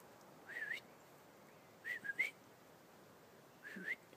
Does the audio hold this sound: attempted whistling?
yes